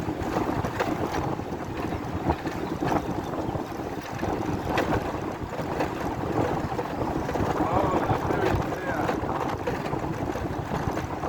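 Steady wind buffets a boat out on a large lake in Uganda, a constant roaring rush with water churning beneath it, while faint voices come through now and then.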